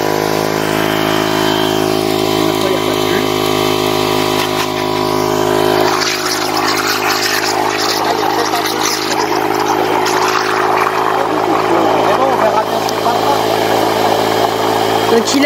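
Bubble barrier pump releasing air bubbles into a model river, a steady mechanical hum and churning roar that holds throughout, building slightly after the start, close and loud with no talk.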